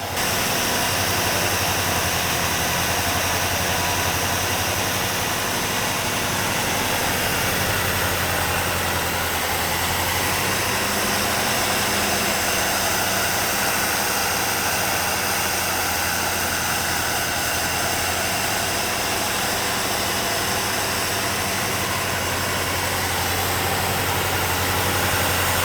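A long-neglected V8 Buick LeSabre engine with a troublesome carburetor idles loudly and steadily close by, a constant rough roar with slight surging swells throughout and no speech.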